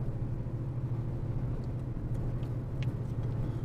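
Peugeot 208 car on the road, a steady low engine and road rumble heard from inside the cabin, continuous and moderately loud with no voices.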